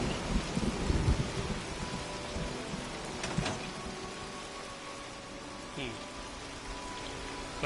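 Rain and rolling thunder during a storm in the video game Fallout 76, steady patter with a low rumble and a sharper crack midway, heard at moderate distance without talk.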